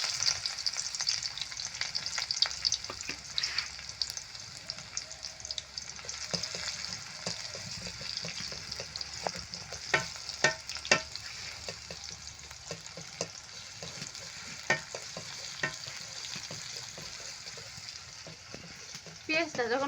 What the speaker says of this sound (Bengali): শুকনা মরিচ ভাজার পর দিয়ে দিলাম পেঁয়াজ।